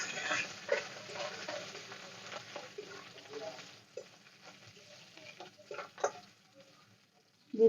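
Chopped garlic and crushed ginger fry in a pan for a fish-head moong dal, a soft sizzle under irregular stirring taps and scrapes, fading quieter midway before a few louder knocks.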